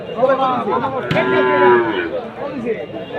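At a cattle market, a cow lets out one long, close, drawn-out moo that rises and falls in pitch, with muffled crowd voices and market bustle around it.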